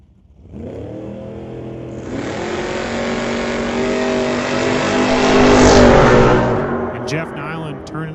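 At a drag strip, a 1985 S10 pickup and a 2000 Mustang launch side by side, engines swelling from idle into a loud sustained roar that peaks and then fades as they run off, with an announcer talking over it.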